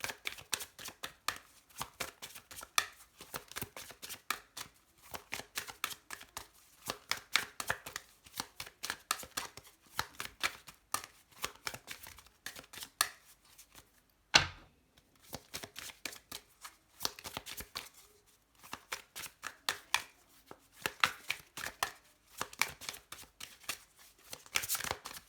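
Tarot cards being shuffled by hand, a continuous run of quick soft riffling flutters and taps in uneven bursts, close and fairly quiet, with one sharper knock midway and no talking.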